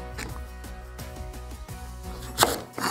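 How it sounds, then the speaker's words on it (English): A knife chops apple slices on a cutting board for a vegan apple crisp, giving a steady run of soft, close knocks with a sharper clack near the end. "So you first start by chopping your apples into slices."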